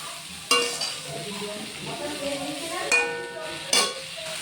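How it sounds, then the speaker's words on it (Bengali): Fresh cabbage being sautéed in a partly covered pan: a steady soft sizzle broken by three sharp metallic clinks of a spatula stirring against the pan, with quiet background noise. "বাঁধাকপিটা অল্প অল্প ঢাকা দিয়ে কষিয়ে নিচ্ছিলাম।"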